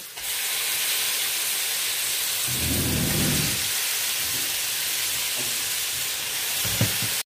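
Vegetables dropped into a hot pan of spices for a Bengali home-style mixed vegetable curry give a steady loud hiss and sizzle that swells briefly, with faint stirring clinks near the end.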